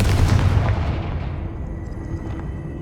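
A Confringo spell detonates in the Hogwarts Legacy video game: a sharp, heavy blast hits at once and rolls away into a fading rumbling tail.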